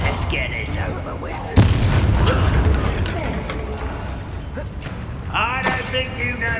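Bombarda spell in Hogwarts Legacy erupts as a sudden loud blast, followed by rumbling magical debris and game effects, with a voice shouting during it.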